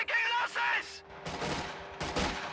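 Gunfire from a strategy video game battle, with grenadiers firing on rear echelon troops: a few quick bursts of shots, the later ones sharp and close, over a low steady hum.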